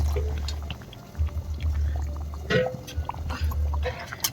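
Water is poured into a thickened chicken masala in a cooking pot, a short liquid pour and splash over a steady low kitchen hum, with no one talking.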